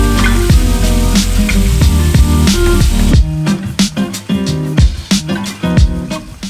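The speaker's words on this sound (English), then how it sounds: "So I'm going to flip them onto the other side, let them cook for another 4 or so minutes" Homemade meatballs sizzling in a pan just after flipping, a loud steady frying hiss with crackles that thins partway through into sharper scattered pops.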